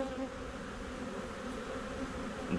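Honey bees drone in a steady, soft, continuous buzz around an open beehive during a Demaree hive manipulation, close by with no talking.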